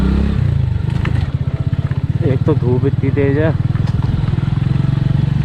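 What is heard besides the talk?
motorcycle riding on an off-road footpath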